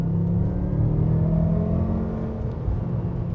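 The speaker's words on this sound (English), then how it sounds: "This is full throttle in third gear." BMW M5 accelerating at full throttle in third gear, heard from inside the cabin as a loud, steady engine drone with rising tonal whine over a dense low rumble.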